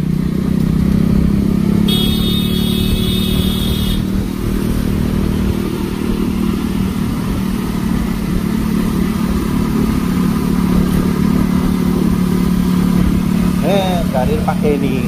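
A motorcycle rides through a congested evening traffic jam near Sonapur with a steady engine drone and surrounding vehicle noise and a brief horn, while a rider talks over it throughout.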